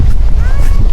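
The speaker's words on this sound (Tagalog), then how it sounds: "So medyo malakas-lakas yung hangin pag tumama sa mukha, napakasakit." Strong wind in Greenland buffets the microphone in a steady low roar, with a faint voice-like tone drifting through midway.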